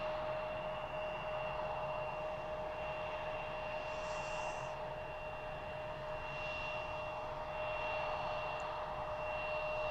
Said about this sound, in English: I think maybe the Piper's leaving.